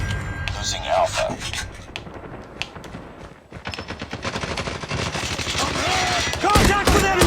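Gunfire in Call of Duty Mobile on the Shipment map, rapid clattering shots with pistol and automatic bursts, mixed with in-game voice callouts.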